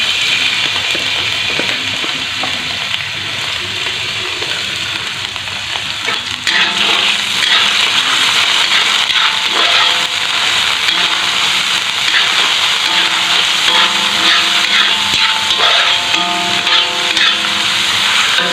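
Shallots and garlic sizzle in hot oil while being sautéed for risoles filling, a steady close crackling fry with occasional stirring scrapes and clinks throughout.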